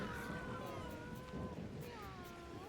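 A kitten gives a few faint, wavering high meows in quick succession over a low, breezy background hum.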